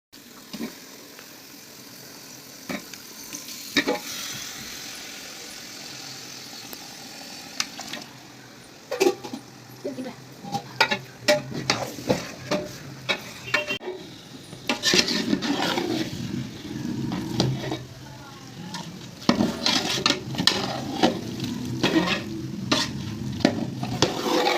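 About 4.5 kg of chicken being stirred and fried in a large pot for biryani, with repeated scraping and clattering stirs over a steady sizzle that grows louder and busier.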